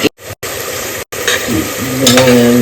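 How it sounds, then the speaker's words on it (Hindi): Masala is stirred and roasted in a pan for a soybean egg biryani: a loud sizzle with short gaps, scraping strokes of a spoon against the pan, and a brief metallic ring near the end. "मसाले को फिर अच्छे से भून लेंगे।"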